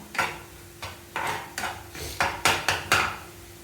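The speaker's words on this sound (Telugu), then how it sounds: "ఒకసారి బాగా కలిపేసుకుందాం" A spoon scrapes and clinks against a bowl in a quick irregular rhythm while pizza oregano and chilli flakes are mixed in, close and clear with no talk.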